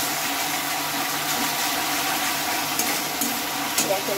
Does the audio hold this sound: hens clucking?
no